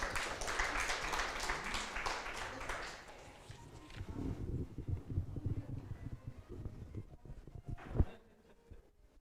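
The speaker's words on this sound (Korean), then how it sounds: "큰 박수 부탁드립니다." Audience applause at a beauty AI conference opening, a burst of clapping that fades after about three seconds into quieter scattered sounds and shuffling, ending with a single sharp knock.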